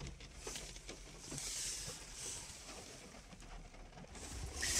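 Steady rain falls outdoors beside a VW Polo 5 (6R) with a jammed boot: a soft, continuous patter and hiss that holds at a fairly even, quiet level throughout with no voices.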